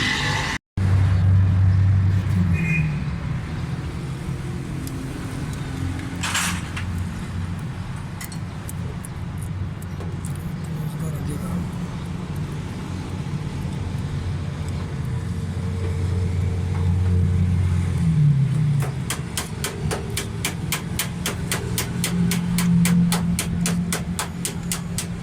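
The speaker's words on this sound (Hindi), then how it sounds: "अभी मैं फ़िटिंग करके गाड़ी स्टार्ट करता हूँ" A 2008 Suzuki Mehran car with a missing ignition point and fuel fault, its engine running steadily at idle with a faintly uneven note and occasional ticking, close by and continuous.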